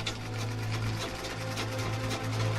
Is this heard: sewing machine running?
yes